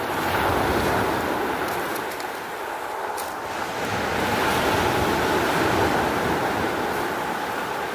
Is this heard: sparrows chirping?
no